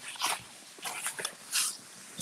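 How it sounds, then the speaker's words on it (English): A puppy whimpers and yips in short, high bursts somewhere in the room, several quick cries that come and go without much rhythm. "I see a puppy in the background."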